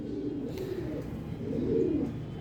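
Soft, low coos of pigeons rolling in a steady murmur, fairly close, with no one speaking.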